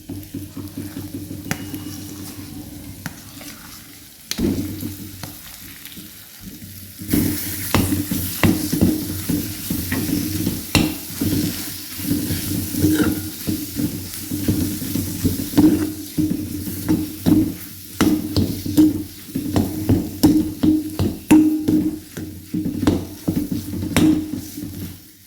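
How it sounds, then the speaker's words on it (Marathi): Mashed potatoes stirred into fried masala with salt and turmeric in a pan, giving steady scraping and mixing strokes over a low sizzle, loud and close, with a quieter start before the stirring picks up. "मसाला परतलाय आपला, आपण मॅश केलेले बटाटे ॲड करूया।"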